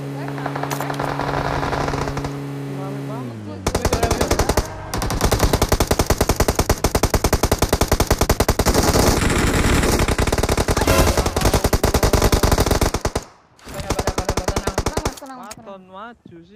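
Rapid automatic gunfire from PUBG Mobile rattles in dense, loud bursts across most of the stretch, with short pauses between volleys. Someone talks over it at the end.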